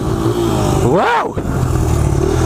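Dirt bike engine revving while riding on snow and ice, a loud close motor that climbs sharply in pitch and then drops back, droning steadily on either side.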